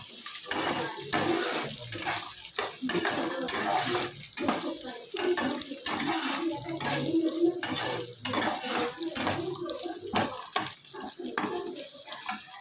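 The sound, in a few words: onions and green chillies frying while stirred in a pan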